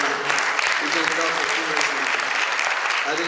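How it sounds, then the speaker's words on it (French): An event audience applauds steadily and loudly after a presentation by Puma Energy Ghana, with dense clapping throughout. "je pense que c'est bien d'applaudir Puma Energy Ghana"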